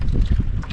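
Strong wind buffeting a microphone while fishing from a small boat on the water, a loud low rumbling gust with no speech.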